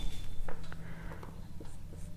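A pen scratches on paper while working out a class 7 math exercise solution: short, soft, close strokes in irregular bursts over a low steady background hum.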